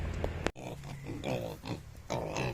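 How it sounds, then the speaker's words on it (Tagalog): Hungry pigs grunt and snort repeatedly at close range around feeding time, with one sharp bang cutting through early on. "Pakainan na natin mga baboy."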